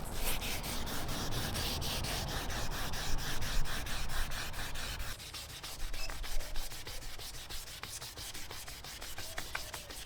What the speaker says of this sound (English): So we just keep sanding it until that gives us the one consistent haze.